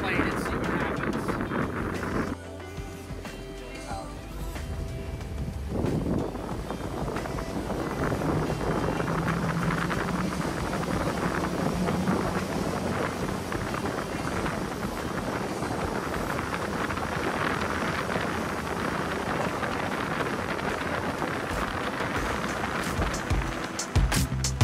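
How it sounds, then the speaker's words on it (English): Boat engines rev up and accelerate as the craft tries to climb onto plane, a sustained loud roar mixed with rushing water and wind buffeting the microphone. "the engines are warmed up, and we're going to try to go on up on plane and see what happens"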